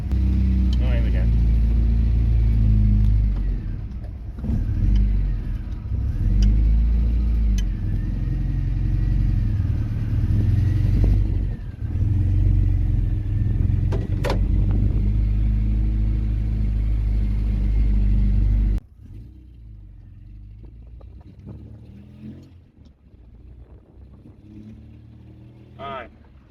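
A supercharged MGB GT rolls along at about 20 mph, its engine a steady close drone under occasional talk, then the sound drops sharply to a quieter rumble for the last several seconds.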